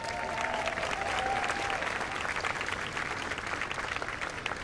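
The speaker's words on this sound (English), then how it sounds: "A round of applause goes to everybody on the team" Sustained audience applause at an outdoor summer festival concert by an army band and chorus, a dense even wash of clapping from a large crowd at moderate distance, with a brief whistle near the start.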